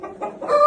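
A rooster offered for sale gives a single brief, close cluck that lasts under a second and grows a little louder toward the end.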